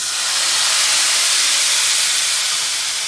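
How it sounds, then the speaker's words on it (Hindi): Loud, steady sizzling hiss of hot oil tempering hitting a pot of kadhi pakora curry, continuous and close with no talking. "ये हमने एक हिसाब का तड़का लगा लिया हमने इसमें"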